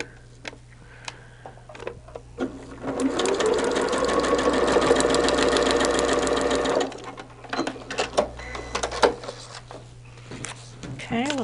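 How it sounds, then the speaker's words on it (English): A sewing machine stitches a King David's Crown quilt block, its motor whirring in one sustained run of about five seconds, framed by quiet ticking and small handling clicks before and after. "So we're going to go ahead and sew"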